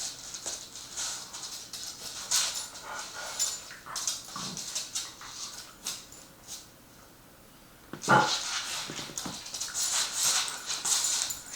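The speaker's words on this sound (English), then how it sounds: "The dog's in the background." A dog indoors at a busy RV show inside a 2018 Newmar Ventana 3412 motorhome, giving a few faint, distant barks and whimpers in scattered bursts, with a short quiet gap before the noise picks up again.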